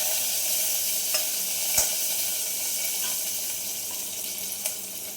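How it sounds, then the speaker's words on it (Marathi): Garlic and green chilies dropped into hot oil for a dal tempering with cumin and curry leaves, crackling in a steady broad hiss with a few sharp pops, close and continuous, with no talk. "असं तडतडलं तेव्हाच छान वाटतं, म्हणजे कडक फोडणी होती तेव्हा कडक।"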